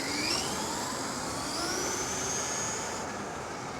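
A Kyosho USA-1 VE 1/8-scale electric RC monster truck driven fast makes a steady, loud, high-pitched motor whine. The pitch climbs and shifts with speed and sounds like a continuous rushing drone without speech.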